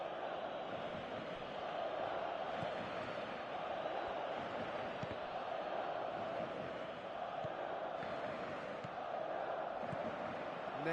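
Stadium crowd in the video game Pro Evolution Soccer 2018, a continuous dense murmur of fans with faint swells and chants held at a steady level throughout.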